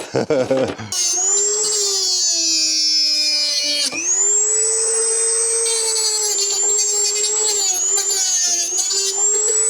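A Dremel rotary tool grinds through screws at a winter cabin, a loud high whine with a short pause and restart, then one long continuous cut.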